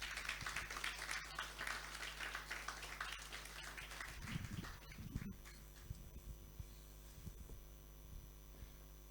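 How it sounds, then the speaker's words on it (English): A luncheon audience at a fellows' lunch claps densely for about four seconds after a speech, then the applause thins to a few scattered claps over a low room hum. "Can we please give our President and Chairman, Governing Council, another round of applause?"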